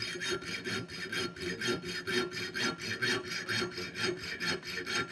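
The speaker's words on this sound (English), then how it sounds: "Very handy little hacksaw." Small hacksaw cutting through a thin-wall bicycle tube in a frame-building shop, steady rhythmic back-and-forth strokes at close range, each stroke a rasping metallic scrape, continuous for the whole stretch with no talking.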